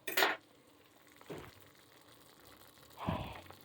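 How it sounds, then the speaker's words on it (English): Flour cooking in a pan for hamburger gravy, stirred now and then. Three separate scraping, sizzling swishes sound faint and close, with quiet gaps between them. "cook the flour. Stir it occasionally."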